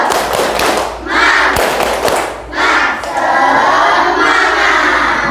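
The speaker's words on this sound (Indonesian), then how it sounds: "Coba tepuk semangat dulu kalau sudah siap belajar." A classroom of pupils performs a rhythmic clapping chant called tepuk semangat, loud and close, with bursts of claps and shouted voices in sections separated by brief dips.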